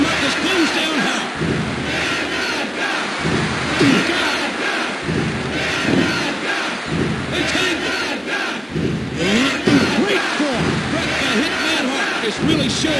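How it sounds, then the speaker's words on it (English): A wrestling crowd in the WWF Warzone video game for PlayStation cheers and roars continuously, with a dense, loud arena din and periodic surges of yelling throughout. "The crowd is going nuts!"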